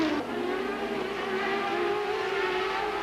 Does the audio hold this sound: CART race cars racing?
yes